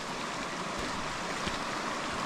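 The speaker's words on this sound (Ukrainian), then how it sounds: "ось тут така прикольна річка" River flowing through a forest at the foot of the Vosges mountains after heavy rains, a steady, full rushing wash of water heard close and unbroken, with no voices.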